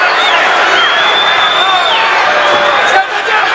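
Sellout boxing crowd at the Reno Event Center during a WBA lightweight title fight, a steady roar of cheering and whistles heard beneath a ringside commentator's voice.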